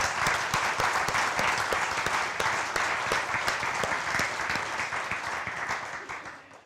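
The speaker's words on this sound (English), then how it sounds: "I think it's time to give Mr. John Cunningham a round of applause for that huge effort." Audience at a real estate agents' summit gives a round of applause: dense, lively clapping at an even level that tapers off toward the end.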